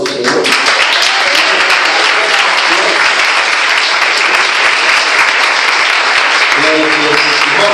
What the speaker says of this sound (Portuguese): peço palmas para a glória do Senhor.